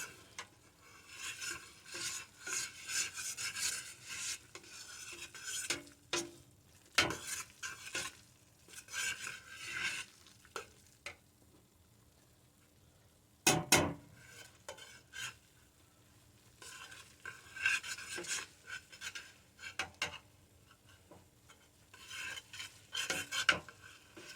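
A spoon scrapes and stirs flour into a pot of fish and corn chowder in irregular rasping bursts with quieter pauses between strokes, close and clear with no talking.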